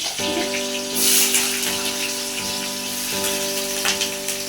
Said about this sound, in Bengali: আমি আলুটা ভেজে নিই